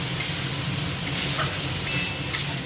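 Potatoes stirred into a fish masala with a little water in a pan for a silver carp dish, a continuous low sizzle with soft spatula scrapes and occasional clinks.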